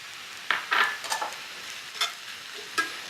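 Pancetta and mushrooms being stirred in a frying pan for a creamy mushroom pasta sauce, with a faint background sizzle and several distinct utensil scrapes and clinks spaced across a few seconds.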